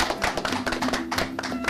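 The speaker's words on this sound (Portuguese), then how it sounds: "merece uma salva de palmas no nosso auditório" Brief applause from a studio auditorium audience on a Brazilian TV program, a short burst of scattered clapping that sounds light and uneven, with no speech.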